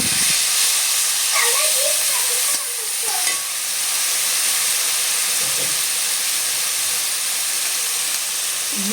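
Cinnamon, cardamom and garlic hiss and sizzle in hot oil in a kadai along with onion, a loud steady frying sound with a few clinks of stirring, and no voices.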